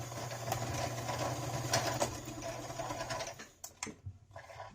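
A sewing machine runs steadily, stitching across and back over the folded strap ends of a DIY fanny pack, a continuous motor whir that stops near the end with a few soft clicks.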